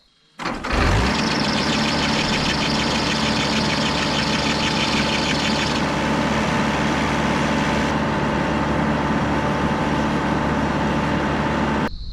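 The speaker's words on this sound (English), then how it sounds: "Why is it squealing? It is the belt." An engine starts and idles steadily with a high, continuous squeal from a slipping drive belt over the low running hum, loud and close, with no talk. The squeal fades partway through.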